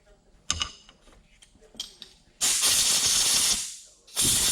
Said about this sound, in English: I'm going to blow this out again with my little wire brush and clean it a little more.